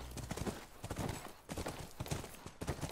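Horse hooves clip-clop steadily at a ranch in The Last of Us video game, a quiet, continuous run of rhythmic hoof impacts.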